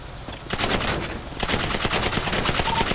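Rapid automatic gunfire from GTA 5 RP, a dense, loud burst of rattling shots that runs nearly continuously after a brief lull, with no talk over it.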